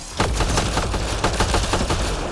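Rapid, loud bursts of automatic gunfire from the video game Mass Effect: Andromeda rattle continuously and close, with a dense, booming low end and no talking.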